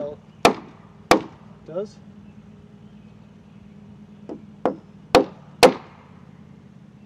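Sharp, separate knocks of a chisel struck with a mallet as it cuts a long rafter joint in a timber frame, about seven strikes in irregular pairs over a low hum, with a brief spoken phrase.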